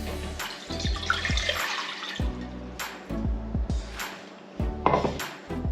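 Water poured into a cooking pan of diced pineapple chunks on a stove, heard amid repeated metallic clanks and knocks of cookware and utensils, moderately close.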